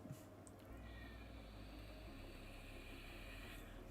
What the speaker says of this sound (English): That cat sounds like he's gonna die out there.